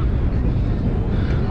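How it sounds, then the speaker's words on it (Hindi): Strong wind buffets the microphone atop a desert watch tower near the Longewala border in Jaisalmer, a loud continuous roar with low rumbling gusts. "काफ़ी हवा चल रही है, देख सकते हो।"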